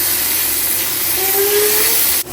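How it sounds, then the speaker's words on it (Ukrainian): Garlic sizzles in hot oil as it is stirred for a mushroom risotto, a steady close hiss that holds evenly and dips briefly just before the end. "Тепер додаю чесничок, перемішую."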